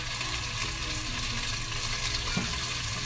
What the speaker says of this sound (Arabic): وأقلبهم سوية